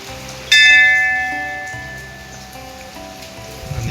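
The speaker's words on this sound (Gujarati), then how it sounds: "અને વરસાદ ચાલુ છે" Rain falls steadily at the Meldi Mata temple, and a sharp bell strike rings out loudly near the start and decays slowly over the patter, with no talking.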